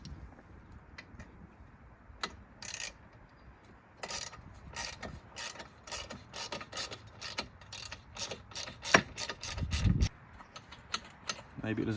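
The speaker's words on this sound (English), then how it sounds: "a Torx T30 screw that needs to be removed. So I'll do that now" A Torx T30 screw is worked loose on an Audi RS3 intercooler with a ratchet, heard as close, quick bursts of sharp clicking against a quiet background.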